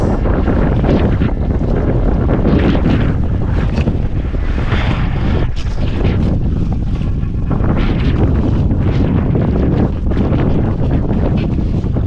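Strong sea wind buffeting the microphone on a small fishing boat, heavy low rumbling gusts that roar continuously and loudly for the whole stretch, with water sloshing faintly underneath.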